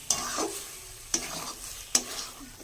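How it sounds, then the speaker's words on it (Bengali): Khichuri being stirred with spice masala in a pan, sounding as three sharp scraping strokes spaced about a second apart over a soft, steady sizzle, close and alone. "এবার মশলাটার সাথে খিচুড়িটা ভালো মতো মিক্স করে নেব"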